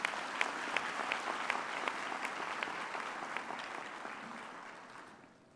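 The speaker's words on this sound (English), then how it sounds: "Somehow I think Dandre and Leslie Ann deserve another round of applause." Graduation audience at a university education faculty ceremony breaking into applause, steady crowd clapping with a few sharper claps standing out, fading away at the end.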